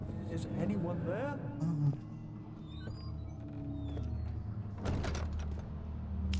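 Heavy wooden door creaking and thudding open in the horror game Amnesia: The Dark Descent, a near, low rumbling slide with a dull knock, set against a dark ambient game soundtrack, with someone talking quietly over it.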